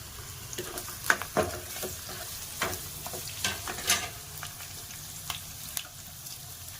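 Chopped onions sautéing in a pan for Hyderabadi chicken masala, a steady soft sizzle with occasional stirring scrapes and clinks throughout, close and moderately quiet, no talk.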